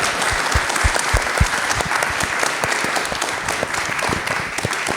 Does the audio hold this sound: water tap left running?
no